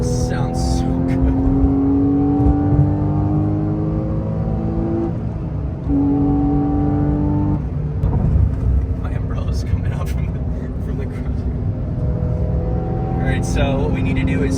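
A car engine drones and revs continuously during a South Florida toy rally, rising and falling in pitch through gear shifts, loud and close, with people talking over it at times.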